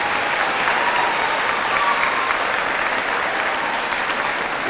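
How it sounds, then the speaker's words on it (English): Dense, steady applause from a large audience at a community running event, a continuous wash of many hands clapping that stays even and full for the whole stretch, with no voices standing out. "I want you to give yourselves a big round of applause"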